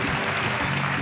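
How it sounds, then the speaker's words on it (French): An audience applauds dance couples at a New Year's Eve ballroom dance show: a dense, continuous wash of clapping, loud and steady for about a second. "Oui, on peut les applaudir."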